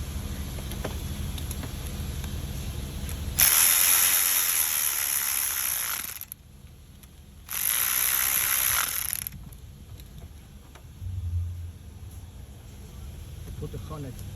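A ratchet tightening the bolt on an ignition coil of a 2015 Mercedes-Benz GLK 350 with a 3.5L V6, heard as two bursts of rapid clicking, each lasting a few seconds, close up, with a quieter mechanical background around them.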